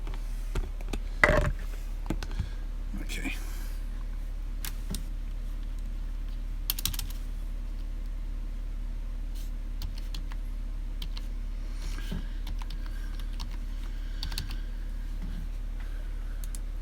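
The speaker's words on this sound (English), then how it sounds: "Let me see if I can do my password again." A password is typed on a computer keyboard in soft, irregular clicks and taps, close and fairly quiet over a steady low hum, with a few sharper keystrokes.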